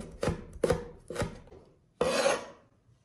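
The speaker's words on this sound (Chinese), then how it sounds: "去蒂以后给它切成圈圈" A knife chops small red chilies into rings on a board: three crisp, evenly spaced chops, then a longer scraping cut, close and clear with no talking.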